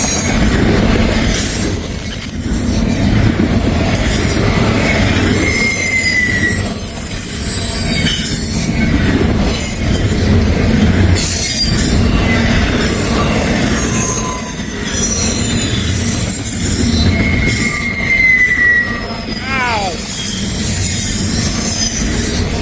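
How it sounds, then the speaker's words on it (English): A freight train running double DPU locomotives rolls past close by, with loud continuous wheel rumble and clatter and high, drawn-out wheel squeals rising and fading over the steady roar. "Double DPU coming through!"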